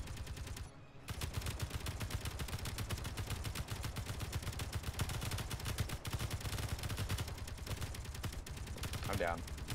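Enemy gunfire in the video game Space Engineers, a dense, continuous rattle of rapid shots that runs almost without a break, steady and fairly loud after a brief pause near the start.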